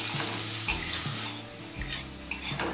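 Potato and carrot pieces fry in a pan for a mustard greens chorchori, a dense steady sizzle with occasional low knocks of a spatula against the pan.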